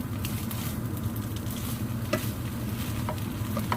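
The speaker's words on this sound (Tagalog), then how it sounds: "ihalo-halo lang natin para ma-mix together yung chili paste natin" Kimchi fried rice with bacon and chili paste being stirred and fried in a pan: a steady loud sizzle with scraping, clicking strokes from the utensil, close and continuous, with no talking.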